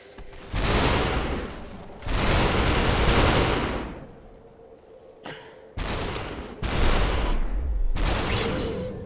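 Gunfire bursts in the VR shooter game SUPERHOT VR, several loud, long noisy blasts with whooshing tails, separated by brief gaps, up close and without speech.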